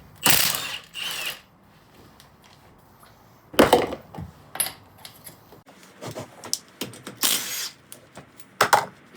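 A power tool with a socket spins off the wheel nuts of a 2018 Polaris Sportsman 570 ATV, several short loud whirring bursts with gaps of quiet and light clinks between them.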